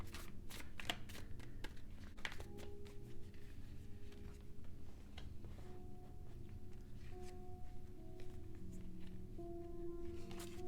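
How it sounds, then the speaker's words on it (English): Playing cards from a Last Unicorn deck are shuffled steadily at close range, a soft continuous riffling and rustling with some sharper snaps, quiet and without speech. "I'm going to shuffle from the last unicorn deck"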